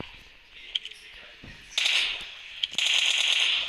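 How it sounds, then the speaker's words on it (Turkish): Bursts of rapid automatic M4 rifle fire in PUBG Mobile, two short volleys in quick succession, crisp and close, with faint clicks in between. "M4 ile ateş ediyorum"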